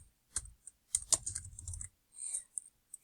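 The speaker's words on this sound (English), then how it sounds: "And then I have to type in my correct answer." Keys clack on a computer keyboard as an answer is typed, in a quick cluster of close, crisp taps with short pauses between bursts.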